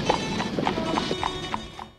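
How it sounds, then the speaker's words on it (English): Hooves of a horse pulling a carriage through New York clip-clop in a steady, even rhythm, close and clear, with a faint background murmur. "This horse-drawn carriage through New York."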